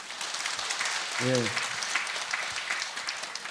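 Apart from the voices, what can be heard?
temple congregation applauding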